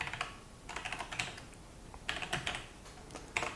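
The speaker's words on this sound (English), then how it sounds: "So let's type in HTTP localhost" Clusters of keystrokes on a computer keyboard as a web address is typed in, brisk bursts of clicky taps separated by short pauses, close and fairly quiet, with no talking.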